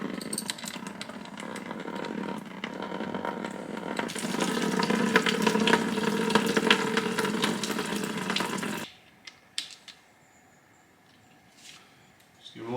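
Radiator coolant from a 2022 KTM XCW 300 pours steadily into a clean bucket, a broad rushing splash that runs for about nine seconds and then stops abruptly, leaving near silence with a few small clinks.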